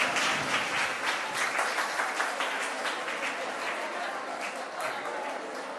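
Sustained audience applause at a school reunion day at St Mary's CGHSS Ernakulam, a dense and steady crowd clapping that carries evenly from start to finish.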